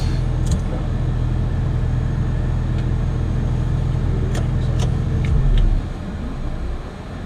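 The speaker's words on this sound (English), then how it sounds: "So now the N1, the big fan's turning, here's ignition, so it's going." Aircraft jet engine starting up on the ground after fuel is introduced at 12% N2, ignition following as the big fan spins: a steady low rumble and whine that holds, then drops off near the end.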